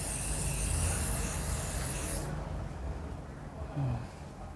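Hairspray hisses onto hair in a steady, loud, close burst for about two seconds, then cuts off, while a blow-dried style with lifted roots and curled-under ends is being set.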